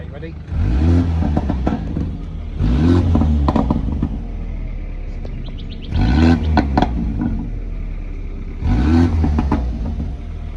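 BMW 328i with a budget Temu Remus exhaust revved in four loud, close bursts, each rising sharply and falling back to a low idle between them.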